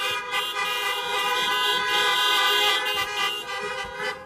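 Car horns honking together at an outdoor political rally, a dense, sustained blare of overlapping toots from several vehicles that holds steady and loud throughout with no one talking.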